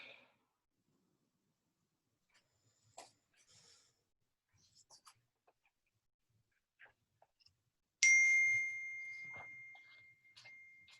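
A phone notification dings once, a clear bright tone ringing out and fading over a couple of seconds, amid an otherwise quiet room with faint scattered clicks and small sounds.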